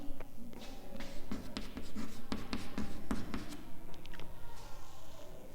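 Marker or chalk writing on a board during a geometry lesson, a steady run of short scratchy strokes and taps close by, with no one speaking.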